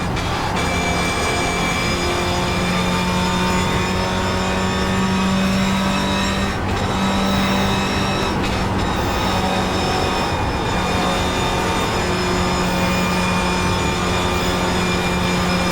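A Toyota GR86 race car in the iRacing sim at Willow Springs, engine droning steadily and labouring uphill under load, loud and continuous throughout with no speech.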